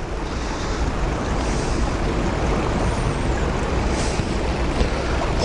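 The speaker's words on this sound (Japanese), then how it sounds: "悪地元の黒い岩には外界の大波が打ち寄せ白いしぶきをうなり上げていますか" Big ocean waves breaking against black rocky cliffs and reefs on a rugged coastline, a loud continuous roaring wash with wind rumble over the microphone and no voices.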